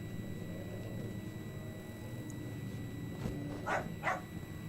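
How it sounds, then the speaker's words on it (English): A dog barks twice in quick succession, fairly distant, over a steady droning background hum in the Amnesia horror video game. "Shut up, dog."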